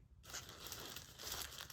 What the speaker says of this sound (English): So let's crumple this one up.